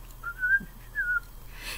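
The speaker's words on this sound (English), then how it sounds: "Little dragon whistles and sings." A person whistles two short rising-and-falling notes, clear and moderately close over a faint steady background hum, with no talking.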